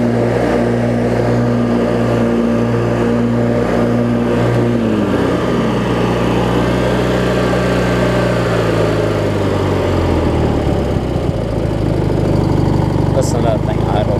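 A Briggs opposed-twin engine on a Craftsman riding mower runs close by, holding a steady throttle, then its pitch drops as it slows toward idle, with a faint voice near the end.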